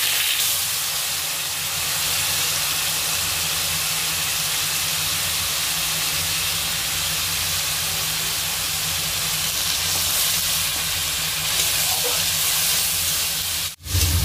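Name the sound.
onion paste frying in hot oil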